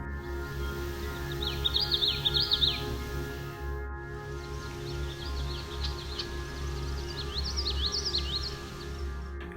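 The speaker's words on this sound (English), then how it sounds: "We also heard the common yellowthroat song, which is often described as sounding like witchety," Common yellowthroat song at a lake, two bursts of quick, repeated chirpy phrases over a steady low hum, moderately distant and alone.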